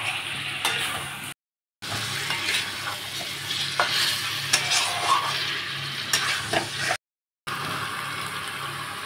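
Tomato and whole garlic cloves being stirred and fried in a pan, a steady close sizzle with scraping stirs running throughout, broken by two brief silent gaps.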